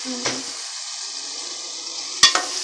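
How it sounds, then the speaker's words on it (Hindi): Potatoes and peas frying in a pan give a steady, fairly loud sizzling hiss, broken by a couple of short stirring clacks near the start and end. "जब हम इसको अच्छी तरह से भून रहे हैं,"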